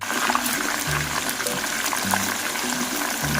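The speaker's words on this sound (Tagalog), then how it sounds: "So iprito lang natin to ng medyo mag golden brown." Chicken feet sizzle and crackle steadily in hot oil over medium heat, a continuous close frying hiss with occasional low bubbling pulses and no talking.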